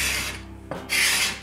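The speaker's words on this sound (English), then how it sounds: "use this scraper and just try to get all this contact cement off of here" A metal scraper rasping contact cement glue off a wooden workbench board, two short scraping strokes separated by a brief pause, close and clear with no voices.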